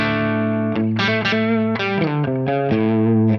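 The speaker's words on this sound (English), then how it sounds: "this is moving up channel 1 of the amp still, but just set so it breaks up a little bit more" Electric guitar through a Soldano SLO amp on the push channel, set for mild breakup, playing a rhythmic run of overdriven chords and notes with a sustained, harmonically rich tone, close and loud with no talk.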